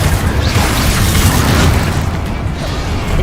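Confringo blasting spell exploding in Hogwarts Legacy, a loud, sustained booming blast with rumbling debris that holds steady and then tapers slightly, with no voices over it.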